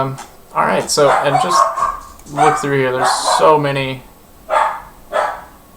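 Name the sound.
dog barking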